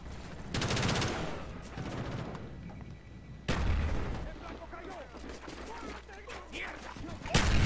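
Gunfire rings out in a Call of Duty Black Ops multiplayer match, loud sharp bursts near the start, middle and end, separated by quieter game ambience, with players talking in between.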